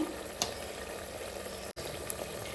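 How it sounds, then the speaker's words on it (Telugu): Tomatoes frying in a pan with chili powder and garam masala for a sword bean mutton curry, giving a steady close sizzle that runs throughout with a brief cut partway. "ఇప్పుడు ఈ టమాటోలు కాస్త ఉడికేంత వరకు అయితే వేపుకుంటాను"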